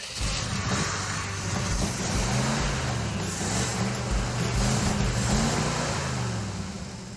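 A Ford Ranger pickup engine, revived with a new ignition coil after running rough through blow-by and oil contamination, idles at a raised, faster speed in a steady, continuous drone with a slight wavering pulse, close and alone.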